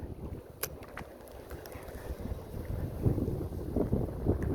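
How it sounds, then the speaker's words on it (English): Strong wind gusts blow across a pond, buffeting the microphone with a steady low roar that swells louder toward the end, with no talk. "it's so windy."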